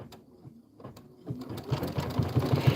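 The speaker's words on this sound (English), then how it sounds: "Step 16, stitch the eyes, whiskers, and mouth detail." An embroidery sewing machine stitches the eyes, whiskers and mouth of a bunny design, starting with a few sparse, soft taps and then building into a steady, rhythmic run of stitching.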